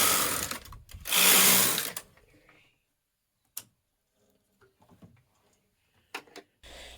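A domestic knitting machine carriage is pushed across the needle bed in contrast yarn, giving a loud sustained whirring rush for about a second, followed by sparse clicks and ticks of the mechanism and a short final pass.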